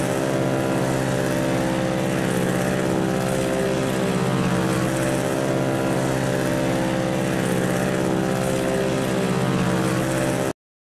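Twin propeller engines of a Lockheed Lodestar in the X-Plane 11 flight simulator drone loudly and steadily with a dense harmonic hum, continuous and unbroken for about ten seconds before cutting off abruptly.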